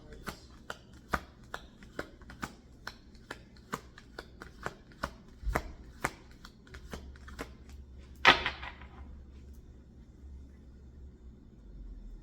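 Oracle cards are shuffled by hand in a steady series of soft, papery taps and flicks. A louder riffling burst comes partway through, close and quiet, with no speech.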